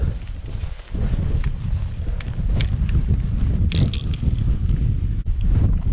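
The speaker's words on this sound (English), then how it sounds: "a bit too windy here to eat" Strong wind on the top of Glengalligh Mountain buffets the microphone in a steady, rough roar, with gusts swelling and dipping and a few brief knocks.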